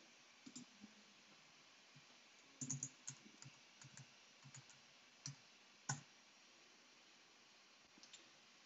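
Login details typed on a computer keyboard, with sparse, irregular close key clicks, a few louder taps and pauses in between, over a faint background hiss.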